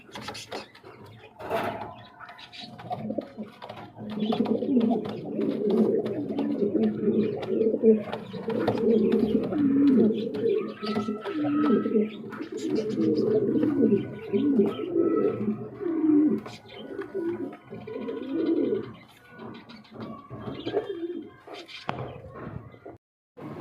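Pigeons kept for sale coo continuously at close range, deep rolling calls overlapping in a steady chorus with occasional rustling and wing or cage noises.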